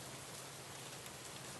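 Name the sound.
rain falling in a misty garden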